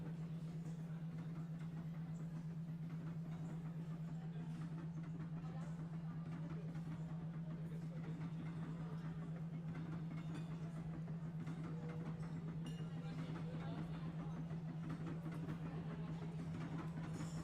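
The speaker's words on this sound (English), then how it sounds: "Back on the train, sitting in the dining car" Steady train interior ambience from a dining car, a low constant rumble and hum with faint rolling rail noise throughout, even and unbroken.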